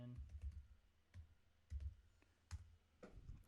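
A password typed on a computer keyboard, a few scattered soft key clicks in short bursts, close but quiet, with a faint voice in the background.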